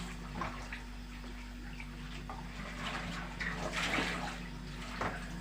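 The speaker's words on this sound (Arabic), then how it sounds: "نغسل الملوخيه، نغسلها كام مره كده حلوين" Molokhia leaves being washed under running water in a home kitchen, with a steady low stream from the tap and occasional splashes and handling noises as the leaves are rinsed.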